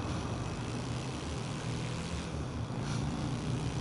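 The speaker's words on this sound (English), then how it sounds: "got my zombie chopper" A zombie helicopter in the GTA video game drones with a steady, loud engine and rotor hum that holds evenly throughout, with no voices over it.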